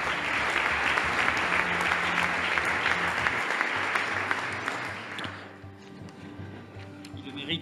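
Applause for four nominees at a housing awards ceremony, loud and sustained clapping for about five seconds that then fades to a quiet room with a low hum.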